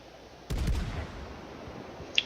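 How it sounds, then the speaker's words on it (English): A warship in World of Warships launches torpedoes: a sudden launch thump followed by a short, fading rushing burst, then quiet and a faint high click near the end. "So I'll go ahead and send some torps."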